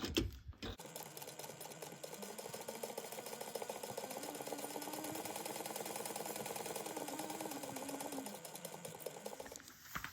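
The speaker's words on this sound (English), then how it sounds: "And then you're sewing around this at 1/8 of an inch." A sewing machine stitches around a bag seam in one steady, rapid mechanical run of needle clatter lasting most of the stretch, close and fairly quiet, starting and stopping with brief clicks and no speech.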